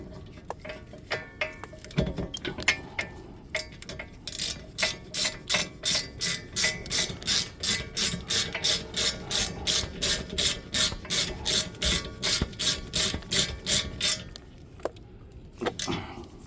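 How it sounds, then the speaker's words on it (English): Hand ratchet tightening bolts on the rear brake of a 2019 Honda Accord, a fast steady run of sharp clicking pawl strokes lasting about ten seconds, close and loud, preceded and followed by a few scattered metallic clicks. "Ratchet."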